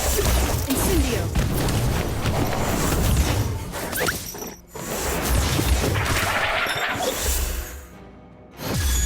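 Fire spell cast in the Harry Potter: Magic Awakened mobile game, a dense burst of crackling whooshes and crashing impacts layered over game music, loud and continuous with short dips near the end.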